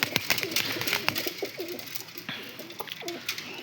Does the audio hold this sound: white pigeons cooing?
yes